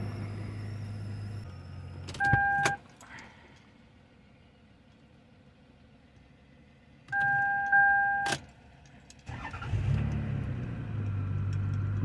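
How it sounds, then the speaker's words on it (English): A Lexus ES300 with a repeatedly blowing EFI fuse has its ignition cycled, giving two short bursts of electrical whine with a clicking start and stop, then its engine settling into a low, steady idle near the end. "I'm gonna try to turn on the vehicle and turn it off a few times."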